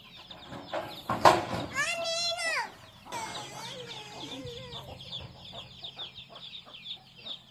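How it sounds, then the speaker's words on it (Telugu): Hens cluck and squawk close by in a village yard, with one drawn-out crowing call near the start, while children chatter and play in the background. "మాకు కోడ్లు కూడా ఉన్నాయి"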